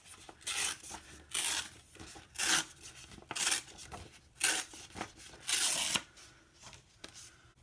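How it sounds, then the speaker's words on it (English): Beige paper is torn in about seven short ripping bursts, each a second or less, close and distinct, separated by quiet pauses. "I'm just going to tear it."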